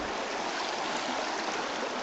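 The Bear River rushes past a campground where people pan for gold, a steady, dense broadband wash of flowing water, close and continuous with no break.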